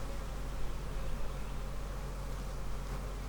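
Honeybees swarm around hives at a busy bee-barn apiary, giving a dense, steady hum that fills the whole stretch without a break, with no talk over it.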